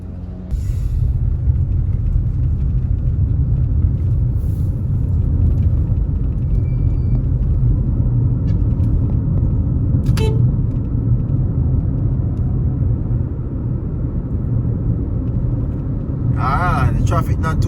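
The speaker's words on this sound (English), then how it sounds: "The traffic not too bad on this side" Steady road rumble of cars driving through Montego Bay streets in Jamaica, a continuous near hum of passing traffic and engines from inside a moving vehicle, with a couple of faint brief high squeaks.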